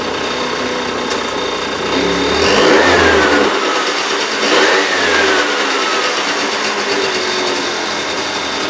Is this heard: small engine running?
yes